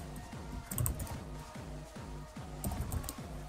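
Quiet, rapid typing on a computer keyboard, a steady run of close key clicks with a few louder taps.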